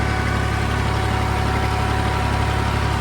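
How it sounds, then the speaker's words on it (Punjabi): A tractor engine running steadily at about 1500 rpm while pulling a rotavator through a field, a loud, close, continuous low diesel drone with constant vibration and no change in pitch. "ਟਰੈਕਟਰ ਲੋਡ ਨਹੀਂ ਮੰਨ ਰਿਹਾ ਆਰਾਮ ਨਾਲ ਚੱਲ ਰਿਹਾ"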